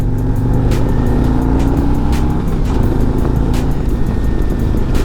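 A 2024 Harley-Davidson Road Glide motorcycle accelerating on a test ride, heard as a loud, steady low engine rumble with rising tones and wind noise, close and continuous, with no talk.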